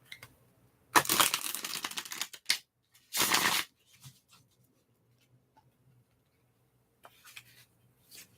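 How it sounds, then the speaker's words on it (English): A deck of playing cards being shuffled by hand in a quiet room, two close, crisp bursts of riffling and rustling separated by a pause, followed by a few faint taps and shuffles. "while I finish up with the card shuffling"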